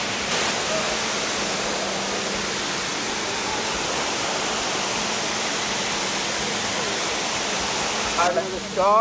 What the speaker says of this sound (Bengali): এটা হচ্ছে 3 নম্বর ঝর্ণা